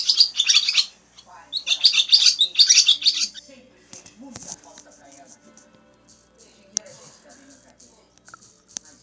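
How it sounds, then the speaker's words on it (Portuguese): A swallow calls in two quick bursts of bright, twittering chirps up front, then only faint scattered chirps and small sounds follow in a near-quiet stretch. "Isto é uma andorinha."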